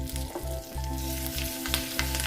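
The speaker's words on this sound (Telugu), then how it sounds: "ఇప్పుడు పోపు కోసం కొంచెం నెయ్యి, కొంచెం ఆయిల్ వేసి అందులో జీలకర్ర, ఆవాలు, ఎండుమిర్చి," Ghee and oil tempering with cumin, mustard seeds and dried red chillies for palak dal, a steady close sizzle with faint crackling pops and a low humming background.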